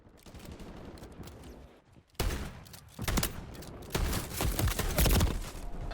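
Gunshots in the Modern Warfare III beta video game, quiet at first, then loud bursts of firing that keep building toward the end.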